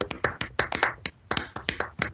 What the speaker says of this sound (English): You can unmute your mics and clap the speaker.